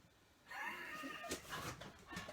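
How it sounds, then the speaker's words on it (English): A cat meows indoors at close range, a few drawn-out wavering cries over about two seconds, fairly loud against a quiet room with no talk. "Did you hear a pussycat?"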